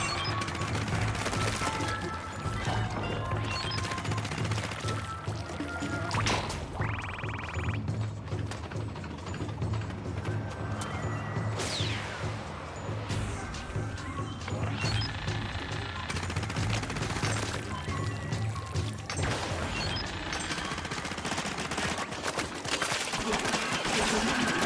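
Weapons firing in Splatoon Raiders during a boss fight: rapid, continuous rattling shots with mechanical clicks and occasional whooshes, steady and busy throughout.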